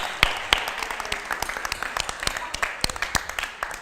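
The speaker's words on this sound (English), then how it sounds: "Give him another round of applause." Scattered clapping from a live workshop audience, individual sharp claps standing out over a steady wash of hands for about four seconds, fairly close and moderately loud.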